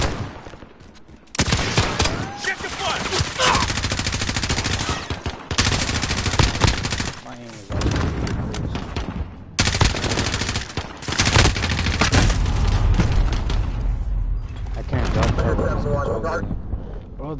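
Gunfire in a Call of Duty video game match comes in dense, loud bursts of rapid shots with brief gaps between them, overlaid with game sound effects and a player talking.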